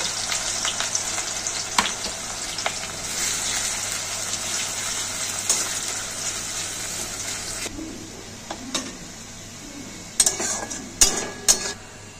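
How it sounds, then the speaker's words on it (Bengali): Sliced onions fry in hot oil for mutton kosha, a steady loud sizzle filling the first eight seconds, then easing as utensils clink and scrape against the pan in a few sharp knocks near the end. "পেঁয়াজ কোচানো থেকে কিছুটা পেঁয়াজ নিয়ে আমি পেঁয়াজটাকে বেরেস্তা করে নেব"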